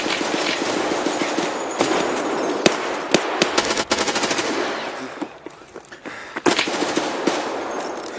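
Rapid automatic gunfire in the Escape from Tarkov video game, sharp loud bursts and single cracks spaced irregularly over a steady background rumble, with no talking.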